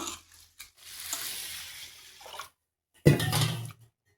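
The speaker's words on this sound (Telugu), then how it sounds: "బియ్యం అయితే కడిగేసినా కదా మరి ఇప్పుడైతే నీళ్ళు పోసి ఇంకా నానబెట్టేస్తున్నామండి" Rice being washed and soaked in water for a village-style jaggery ariselu recipe, with soft swishing, stirring and dripping in two bursts separated by a short pause, close and fairly quiet with no talking.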